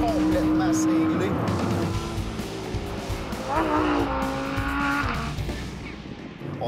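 A Lamborghini Huracán Spyder engine revs hard under full acceleration, and its pitch climbs and shifts through the gears. The roar is loud and close, with a voice talking over it.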